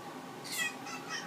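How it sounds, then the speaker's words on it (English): A cat meows twice in quick succession, close and fairly quiet over a low background hiss. "That is a cat that does not like to be touched."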